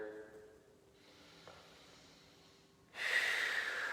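Slow, deep breathing during a power yoga session, soft airy inhales and exhales close to the mic, building to a louder, rushing breath near the end.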